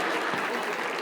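Brief, quiet applause from a small audience at a community talk event, a thin patter of clapping lasting about a second with no voices over it.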